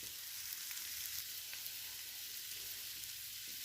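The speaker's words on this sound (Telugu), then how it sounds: "ఒకసారి మధ్యలో కలుపుకుందామండి." Restaurant-style chicken curry sizzling in a pan, a steady soft frying hiss with faint stirring, fairly quiet and continuous, no voices.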